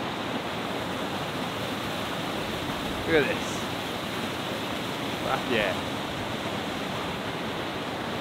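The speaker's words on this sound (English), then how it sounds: "Sitting on the edge of a fucking waterfall." Waterfall rushing with a steady, broadband roar, dropping about a hundred feet over an edge into a pool, heard up close from its edge; someone speaks briefly over the continuous water noise.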